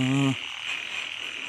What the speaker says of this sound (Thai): โอ้เป็นกบตัวผูครับ